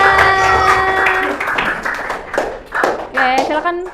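Children in a classroom clap their hands in short bursts, with bright sharp claps mixed with chatter and a teacher's voice talking over them.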